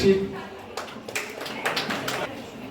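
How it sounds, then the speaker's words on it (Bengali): A crowd gives a short burst of scattered hand clapping for Buddhist monk Bhikkhu Sri Biswajit at a Bengal Creative Club event. The claps are moderately loud, and voices can be heard around them. "বেঙ্গল ক্রিয়েটিভ ক্লাবের তরফ থেকে বৌদ্ধ ধর্মগুরু ভিক্ষু শ্রী বিশ্বজিৎ মহাশয়কে একটু জোরে হাততালি হোক"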